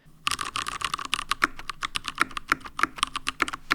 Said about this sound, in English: This is a very, very old, probably 10 years old or more Ducky keyboard.